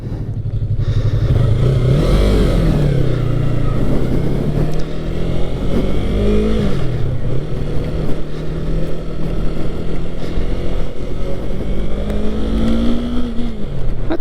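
A Yamaha MT-03 motorcycle engine runs steadily throughout a ride, a loud continuous low drone with shifting pitch as the rider changes speed, rising in revs near the end.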